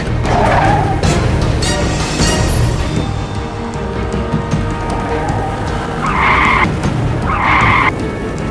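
A car speeds and skids with squealing tires in an action scene from a Bangla movie, loud and dense throughout, with engine roar and two bursts of tire screech near the end; voices shout briefly.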